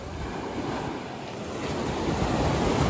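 Black Sea waves rolling onto a beach, a continuous broad wash of surf that swells slightly louder toward the end, with some wind noise and no voices.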